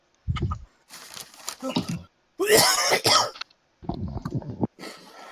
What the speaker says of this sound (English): That was a cough, but still.